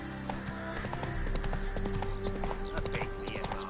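Horse hooves clip-clopping in The Witcher on PS5, a quick steady trotting beat up close with background game ambience and a brief voice over it.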